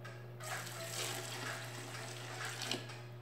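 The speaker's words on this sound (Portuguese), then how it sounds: "vou colocar mais 1 litro de água fervente" Boiling water is poured into a large batch of aloe vera paste, a soft steady gush of liquid heard faintly over a low background hum.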